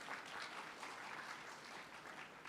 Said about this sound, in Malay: Marilah kita beri tepukan gemuruh kepada cendekiawan syariah Islam